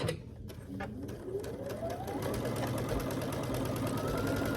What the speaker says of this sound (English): So I'll take it to the machine, line it up, and stitch diagonally across